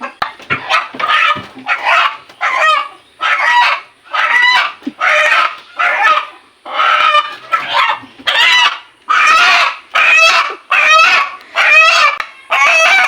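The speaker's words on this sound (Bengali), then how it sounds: "তো চলুন এখন মোরগটা ধরে নিই।" Chickens and a rooster in a backyard coop, a loud close string of repeated clucks and squawks in regular bursts, one call after another with short gaps.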